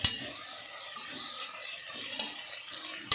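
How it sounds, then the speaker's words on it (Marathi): Finely sliced onion fries for biryani until golden brown. A soft, continuous sizzle runs under occasional stirring, with a few sharp clinks of a utensil against the pan. "आणि ह्या कांद्याला आपण खरपूस थोडासा भाजून घ्यायचा"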